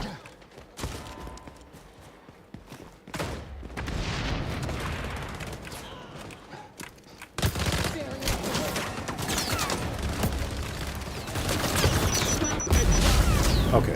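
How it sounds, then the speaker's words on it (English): A firebomb drops right on top of the player in the shooter XDefiant, bursting into loud, dense crackling blasts and gunfire-like bangs that roll on and swell toward the end, with someone talking over the chaos. "so that thing just drops a firebomb right on top of me"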